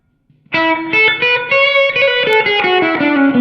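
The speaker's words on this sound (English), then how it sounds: "Now the reverb on this is very nice." Electric guitar played through the reverb effect of a Behringer V-amp 2 amp modelling processor, a loud run of notes that ring out and blend into a lingering wash after a quiet start, with no talking.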